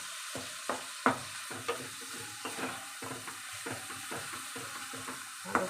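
Masala spices being sautéed in a pan for a vegetarian dish, with a steady low sizzle broken by repeated sharp scrapes and taps of a spoon stirring against the pan, close and fairly quiet.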